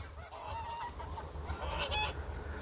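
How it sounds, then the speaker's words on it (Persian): A flock of geese honks continuously at close range, overlapping calls forming a noisy, steady chorus outdoors. "بیا غاز بیا"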